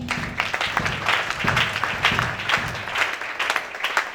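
A church congregation claps and applauds steadily in a dense, lively wash of hands with some faint voices mixed in.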